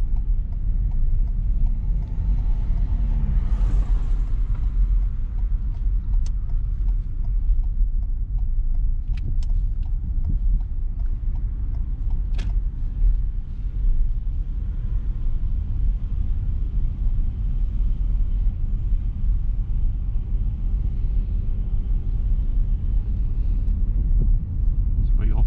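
A car engine hums as a learner drives on local roads with bends, a steady low rumble heard from inside the cabin that holds throughout. Voices talk over it.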